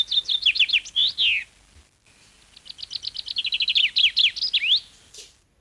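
Two clear chaffinch song phrases, each a quick run of bright descending notes ending in a flourish, close and loud with a short silence between.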